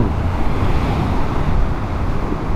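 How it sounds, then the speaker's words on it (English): Waves crashing on the Lake Superior shoreline, a loud, steady roar of surf mixed with buffeting wind noise on the microphone, with no talking. "Man, I can hear the waves just roaring."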